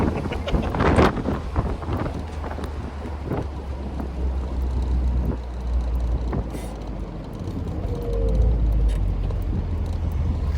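A 1980 Fiat 124 Spider engine revs at about half throttle, a low throaty drone rising and falling under heavy wind buffeting, with a few sharper bursts early on and no talking over it.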